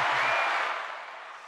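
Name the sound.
applause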